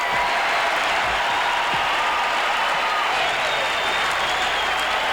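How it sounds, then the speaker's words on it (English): A packed ballpark crowd of over 32,000 gives Robin Yount of the 1988 Milwaukee Brewers a standing ovation after his 2,400th base hit, a dense roar of cheering and clapping that stays loud throughout. "And Robin Yount receiving a standing ovation here."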